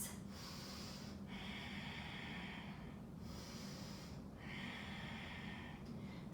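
Slow, quiet breaths during a yoga flow, two drawn-out cycles of airy inhale and exhale with brief pauses between, close and soft, with no talk.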